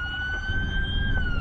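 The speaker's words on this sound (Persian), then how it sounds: "این شهری است که صدای آژیر آمبولانس بخشی از زندگی در آن شده." An ambulance siren in the city of Tijuana, Mexico, wailing steadily and fairly close over a low traffic rumble in a brief burst.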